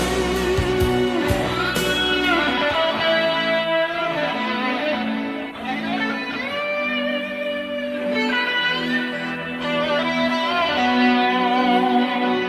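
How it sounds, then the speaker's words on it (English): An electric guitar runs through a compressor, Big Muff fuzz, delay and chorus, giving a loud, sustained, saturated lead of held bending notes with smeared echoes, playing alone for the whole stretch. "His signal chain goes as a compressor, a big muff, delay, and a chorus"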